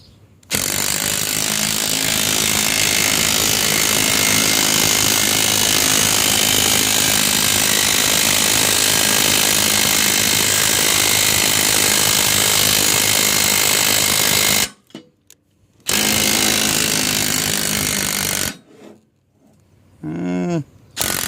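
An impact gun pressing out lowrider lower control arm bushings makes a loud, sustained rattling hammer that runs for about fourteen seconds, stops briefly, resumes, then breaks into shorter bursts separated by gaps.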